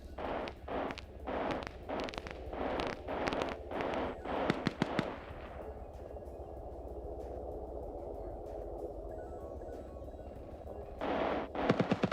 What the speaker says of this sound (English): throwing some wild grenades around up here